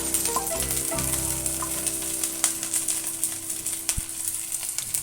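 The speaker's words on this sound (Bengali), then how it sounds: "রসুনটা একটু ভেজে নেব।" Chopped garlic fries in a pan, a steady close sizzle with crackling pops running through, and no one speaking.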